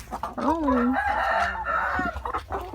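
Laying hens in a backyard coop give out a loud crow-like call followed by steady clucking, close by, with someone talking over them.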